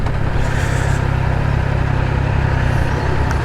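Engine of a 2021 Triumph Trident 660 motorcycle pulling hard on Sydney streets, a loud steady drone with strong low rumble and wind rush held throughout, no voices over it.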